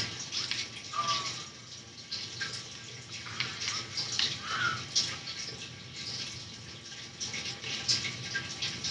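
Water noise in the video game Growtopia: a steady, hissing wash of running or splashing water, with a few brief brighter splashes and faint voice-like sounds under it.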